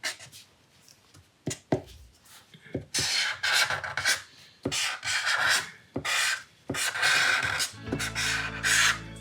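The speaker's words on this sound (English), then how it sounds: "enhance some of these edges with this pen. So just sort of bring my pen around" A chisel-tip pen is drawn over paper to sharpen the edges of a sketch, giving bursts of close rubbing and scratching strokes of varied length with brief taps and pauses between them.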